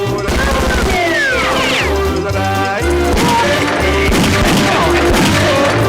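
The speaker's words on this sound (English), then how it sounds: "Now pair it with gunshots and chicken squeals." Rapid video game gunfire crackles over loud, driving game music, with shrill chicken squeals and sweeping tones mixed in, dense and continuous throughout.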